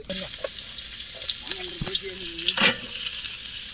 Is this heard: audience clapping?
no